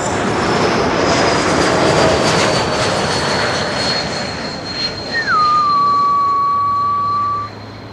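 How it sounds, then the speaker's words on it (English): GE90 jet engines starting up at Schiphol airport: a loud, steady roar with a thin high whine running throughout, and a rising tone that climbs then holds level toward the end before the noise cuts off. "Oh, more GE90s being started. Quite clearly audible on the mic."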